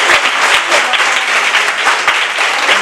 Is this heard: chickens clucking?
no